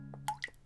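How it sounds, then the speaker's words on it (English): In a cartoon, water drips from a tap that was left running, two or three soft, bright plinks in under a second, quiet and alone. "Oh, what is that dripping sound?"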